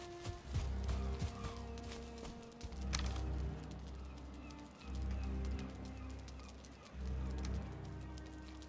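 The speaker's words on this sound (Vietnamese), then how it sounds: "Cái con chim." Bird calls in Valheim on a cold mountain: soft, cooing notes repeat at moderate volume over a steady low drone of game ambience and wind, with no talking.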